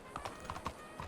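Several distinct horse hoofbeats clop in a quick uneven rhythm in Red Dead Redemption 2, fairly faint, with no other sound around them.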